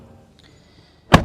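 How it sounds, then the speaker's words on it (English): The door of a 2024 Acura ZDX A-Spec SUV shuts with a single loud, solid thunk heard close from inside the cabin after a quiet moment. "shutting the door"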